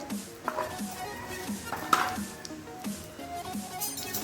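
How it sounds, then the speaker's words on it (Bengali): Panch phoron seeds, two bay leaves and a pinch of turmeric fry in hot oil in a pan for a raw mango chutney, giving a steady soft sizzle with occasional clinks and scrapes of a spoon, close and moderate. "ভেজে নিচ্ছি যতক্ষণ খুব ভালো সুগন্ধ আসবে"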